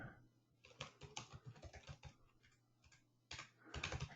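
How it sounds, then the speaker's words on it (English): Keys tap on a computer keyboard at an uneven pace, quiet and close by, with a short lull partway through and then another quick burst of typing. "If I can type it correctly."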